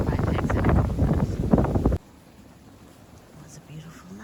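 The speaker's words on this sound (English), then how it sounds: "It is super windy out here." Strong wind buffets the microphone with a loud, rough roar for about two seconds, then drops away to near quiet.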